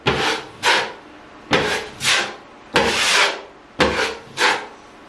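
A putty knife scrapes putty across a wall in four pairs of short, close strokes, each a rough rasping swipe with brief gaps between pairs and no talking.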